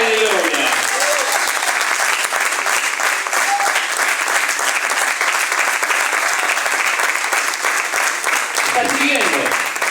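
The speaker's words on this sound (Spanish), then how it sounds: "Aplauda al Rey de Gloria" Church congregation applauding at a revival service, sustained dense clapping filling the room throughout, loud and steady, with a voice briefly audible at the start and end.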